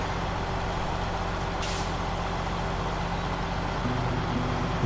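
A heavy truck rolls along a road in SnowRunner with a steady, loud engine drone and road rumble, and a short hiss partway through. It is alone with no voices.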